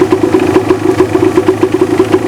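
A motorcycle engine runs at a steady idle, its loud, close, even putter pulsing in a regular rhythm with no talk over it.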